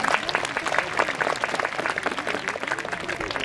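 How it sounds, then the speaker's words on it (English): An audience at a bird show at a wildlife sanctuary gives a brisk, close, continuous round of applause, dense with overlapping claps throughout. "Give her a round of applause."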